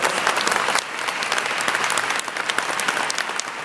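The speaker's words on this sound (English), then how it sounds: "Give them another round of applause." Steady applause from a large audience at an emergency summit on urban violence, dense continuous clapping sustained without a break, with no talk over it.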